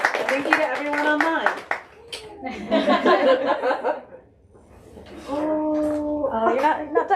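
An audience at a bookstore author event claps, with scattered hand claps mixed with laughter and chatter. The sound is close and moderately loud and is broken by short pauses.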